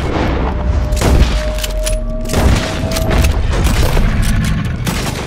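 Gunfire and booming shots in Red Dead Redemption 2 during a fight with a big gator at night, loud close reports firing in irregular bursts over heavy background noise.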